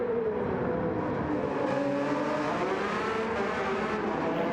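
Race cars in a racing game pass through the final chicane at Spa with a steady, moderately quiet engine roar that shifts pitch as they brake and accelerate, with no talk over it.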